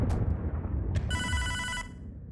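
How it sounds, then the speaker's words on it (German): A telephone rings in the video game Hotline Miami 2: Wrong Number, a single bright electronic ring lasting under a second, close and clear over a low rumbling game background. "Telefon, Telefonmann."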